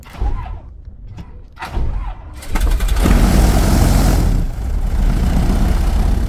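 A rebuilt Piper Aztec piston airplane engine cranks with a few uneven thumps, then catches and settles into a loud, steady roar that holds to the end.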